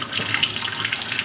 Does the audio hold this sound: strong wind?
no